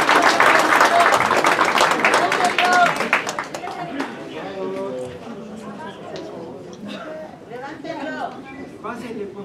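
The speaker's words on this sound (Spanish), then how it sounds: "un aplauso para todos ellos," Audience applause at an awards ceremony in Oaxaca, loud dense clapping that fades after a few seconds into scattered claps while a voice speaks over the room.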